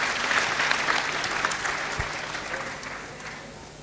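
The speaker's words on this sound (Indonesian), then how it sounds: "Tepuk tangan buat Mas Dik Doang" Audience applause at a Bangbang Wetan gathering with Cak Nun, a crowd of many hands clapping in a thick, steady wash that slowly fades toward the end.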